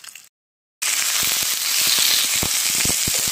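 Chana dal, fresh coconut and dried red chili sizzle and crackle in hot oil in a pan, a steady dense frying hiss with scattered sharp pops, starting abruptly after a brief silence, close and fairly loud.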